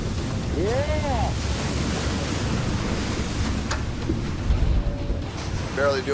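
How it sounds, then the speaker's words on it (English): Ocean surf and wind roar steadily around a crab fishing boat at sea, with waves breaking over the bow in a continuous loud wash, a brief swell near the end and faint voices in the background. "You can almost hear the ocean coming at you."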